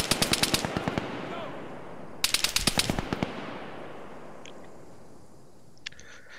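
Two loud bursts of rapid automatic gunfire in the Arma 3 video game, the first rattling for about a second and the second shorter, followed by a fading rumble and a couple of faint distant shots.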